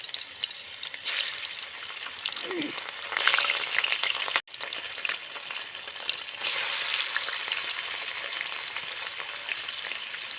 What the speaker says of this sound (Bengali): মাছগুলো আলাদা একটু বাজিয়ে নিচ্ছি